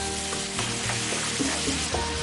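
Ginger and mixed herbs sizzle steadily in a hot pan over high heat, a dense close crackle with occasional stirring scrapes, with no talking.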